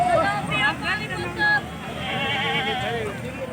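Large white-horned goats bleat at a livestock expo in Hyderabad, Sindh, with several wavering calls rising over loud announcer commentary and crowd babble.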